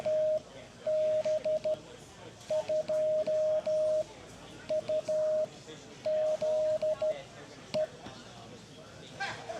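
A telegraph key sends Morse code at a ham radio convention's CW club booth, heard as a steady high sidetone beep keyed in short dots and longer dashes, with crowd noise underneath.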